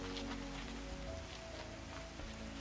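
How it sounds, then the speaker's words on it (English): Steady rain falls in Horizon Zero Dawn, a soft, constant hiss of drops on the ground and foliage, low and continuous under a faint game ambience. "Oh, it's raining now."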